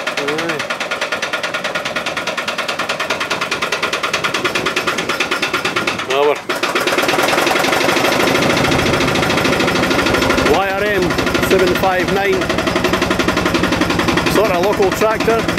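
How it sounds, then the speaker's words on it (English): A David Brown 2D tractor's small engine runs steadily throughout, a close, loud, even mechanical chatter, with a brief dip near the middle and a person talking over it. "The David Brown 2D."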